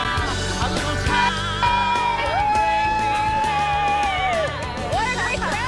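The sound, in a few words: crowd cheering and whooping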